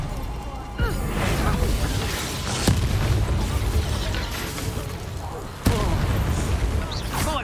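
Spell blasts and explosive impacts from Hogwarts Legacy combat, with Confringo and Bombarda fire, sharp bursts near 2.7 and 5.7 seconds over a dense rumbling game mix and a voice calling out spell names.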